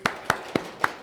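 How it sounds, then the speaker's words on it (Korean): Four distinct hand claps from a church congregation at a Christmas worship service, evenly spaced, sharp and close. "박수하십시다"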